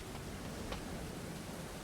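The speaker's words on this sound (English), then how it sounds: "It's raining." Steady rain in the survival game Stranded Deep, a dense, even wash of drizzle-like hiss with no distinct drops, heard alone over a couple of seconds.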